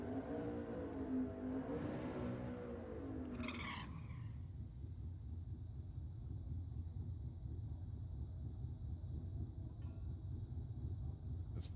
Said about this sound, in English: Just feathering the throttle in the burnout.